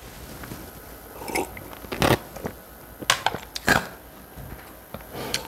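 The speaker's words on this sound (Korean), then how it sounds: "얼음이 들어있어서 얼음 씹어먹는 소리가 났습니다." Ice cubes crunched between the teeth, a few sharp irregular bites and cracks close to the ear, with quiet gaps between them and no talking.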